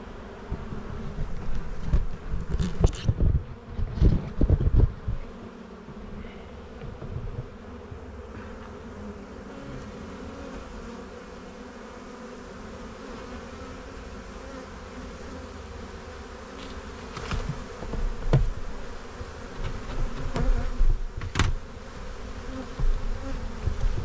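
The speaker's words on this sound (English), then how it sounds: "Swarms are awesome." A swarm of honey bees droning steadily in a beekeeping setting, a continuous close buzzing hum with occasional louder knocks and handling noises over it.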